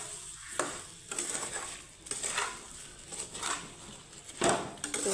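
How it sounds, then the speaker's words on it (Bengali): Raw mango pieces stirred with sugar in a pan over low flame for a sweet-sour-spicy pickle, giving close scraping and clinking of a utensil against metal in irregular strokes, with faint sizzling underneath. "চিনির সাথে সুন্দর করে আমি এখন আমটাকে চাল করে নিব"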